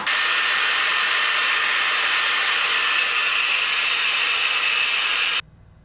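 A battery power tool cuts through a cheap 6mm hex key socket, giving a steady, loud, high-pitched grinding whine for about five seconds that shifts slightly in tone midway before cutting off abruptly.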